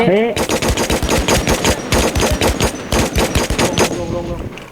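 Automatic gunfire from the video game Last Man Standing rattles in loud, rapid bursts of evenly spaced shots that nearly fill the span, with a short pause partway and a brief voice at the start.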